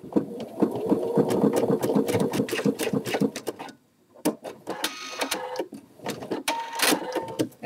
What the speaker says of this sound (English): So you need to sew both together